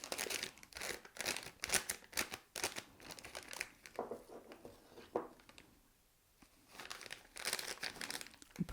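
A plastic piping bag for buttercream is folded down and handled up close, giving loud bursts of crinkling and rustling, with a brief quieter pause before the crackling resumes.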